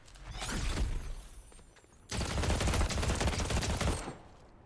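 Sniper rifle gunfire in Fortnite Chapter 7 Season 3 zero build mode, two loud bursts of crackling impact noise, a shorter one first and then a longer sustained one after a brief lull, with no speech.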